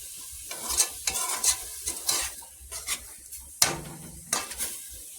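Meat tomato sauce being stirred in a pan, a spoon scraping and clinking in quick repeated strokes over a soft sizzle as the water cooks out, close and fairly loud with no talking.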